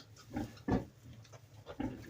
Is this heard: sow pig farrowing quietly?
yes